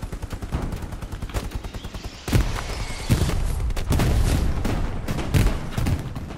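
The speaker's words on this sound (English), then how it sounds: "Oh shit, artillery." Artillery and gunfire in the WWII shooter Hell Let Loose: dense bursts of rapid shots, then heavier booming impacts from about two seconds on, loud and continuous with no talking.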